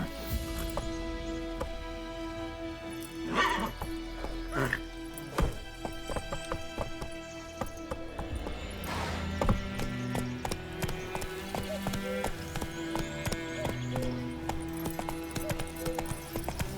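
Horse hooves clip-clopping at a quick gait with a short whinny, from the video game The Witcher 3: Wild Hunt, steady rhythmic hoofbeats layered over game music and ambience.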